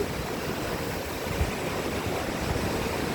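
Sea waves crash on a shore during a holiday in Spain, a steady loud wash of surf and spray with no break and no voices.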